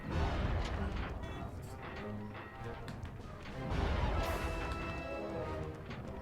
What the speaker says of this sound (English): Bentley is smashing people because he needs to collect bad magic energy